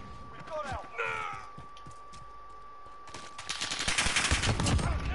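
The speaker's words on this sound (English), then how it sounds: "Who's shooting?" A few sharp gunshots crack in a sniping video game, separated by quiet moments before a denser flurry of shots near the end, with voices talking through it.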